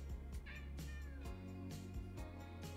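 A pet cat named Peewee gives a few close, faint meows in a quiet room, short chirpy calls spaced across a couple of seconds.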